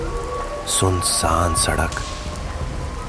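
Rain patters steadily on a deserted road at night, a constant hiss running beneath a voice narrating a story.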